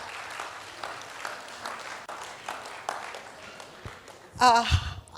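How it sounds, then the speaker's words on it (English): An audience gives a moderate round of applause for Ketayun Saklat, steady and fairly soft at a slight distance, before a voice briefly speaks near the end. "Please, can we have a round of clap for Ketayun Saklat?"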